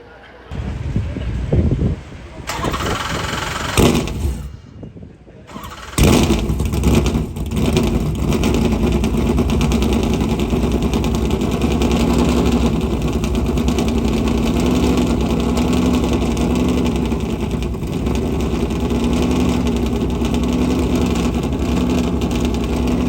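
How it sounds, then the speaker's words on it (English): A vintage Trans Am Camaro race car in a racing paddock fires up after a few brief bursts, then settles into a loud, steady, rumbling idle close by. "Here's one of the Trans Am Camaros that's racing today."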